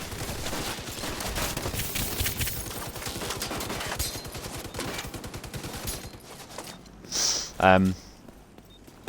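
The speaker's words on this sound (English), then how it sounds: "Way too far away to be using a shotgun" Rapid, dense gunfire and combat effects from The Division 2 PvP play in a steady barrage, with a voice talking over the game sound and a few louder bursts near the end.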